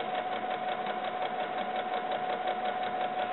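A sewing machine stitches a seam along pinned fabric for ball-jointed doll leggings, a continuous even mechanical whir with rapid rhythmic needle ticks, close and steady without speech.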